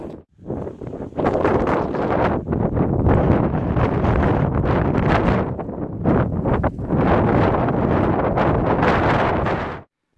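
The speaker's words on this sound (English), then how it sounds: "It's a bit windier than we had hoped" Strong gusts batter the microphone at a wild camping pitch beside Suilven in the Scottish Highlands, a loud, roaring buffeting that surges and briefly drops before cutting off.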